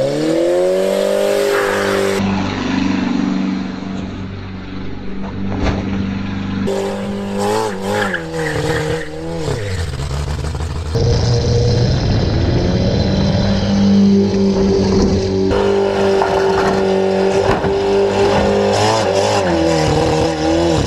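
A VW Golf 2.0 engine revs and changes pitch repeatedly, then settles into a loud, high idle. The sound stays close and continuous throughout, with no talk over it.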